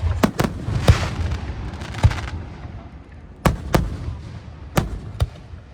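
Labor Day fireworks bursting over Boiling Springs, Pennsylvania: a string of sharp, loud cracks and booms, several close together, with rumbling tails between them.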